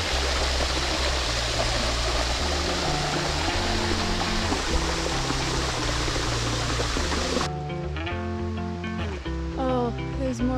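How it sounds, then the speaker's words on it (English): A stream and waterfall rush steadily on the Ka'au Crater ridge hike on Oahu, Hawaii, a loud constant wash of water that cuts off abruptly near the end, giving way to other tonal sound. "Oh, there's more waterfalls."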